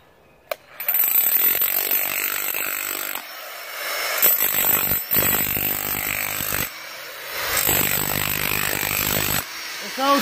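A heavy electric demolition hammer breaking rock roars in long sustained bursts with brief pauses between, loud and close, its harsh rattling hammering tone filling the space.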